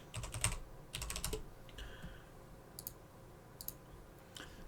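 Computer keyboard typing while filling in a sign-up form: a quick burst of close key clicks, then sparser taps and short flurries, quiet and without talk.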